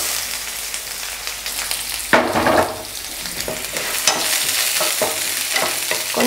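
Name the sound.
onion sautéing in pan for cabbage stir-fry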